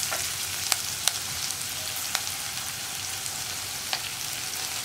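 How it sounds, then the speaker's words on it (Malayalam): Sliced onions and curry leaves sautéing in a pan for a spicy-sour Kerala brinjal curry, with an even hissing sizzle and occasional light clicks from stirring. "2 തണ്ട് കറിവേപ്പില ഇതെല്ലാം ചേർത്ത് നന്നായിട്ടൊന്ന് വഴറ്റി റെഡിയാക്കിയെടുക്കാം"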